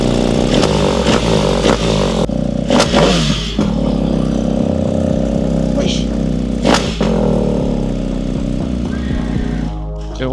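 A big adventure motorcycle with a full exhaust line, either a BMW GS1300 Adventure or a KTM 1290 Super Adventure S, idles loud and close and blips its throttle in repeated sharp revs, with people talking over it.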